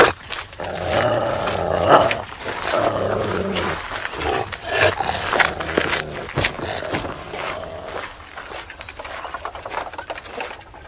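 A large, ferocious-looking chained dog growls and roars in a period Sherlock Holmes drama, loud and close, with deep rumbling snarls rising and falling over about ten seconds and no talking.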